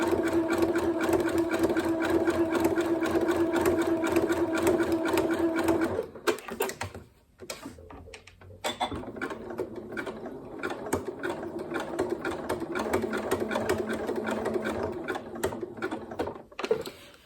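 A sewing machine runs in fast, steady stitching bursts, close by, pausing briefly in the middle before resuming at a rapid rhythmic clatter.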